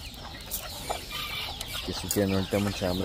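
Chickens and loose chicks cluck nearby while being fed on a home farm, the calls growing louder and more rapid toward the end, with someone speaking over them.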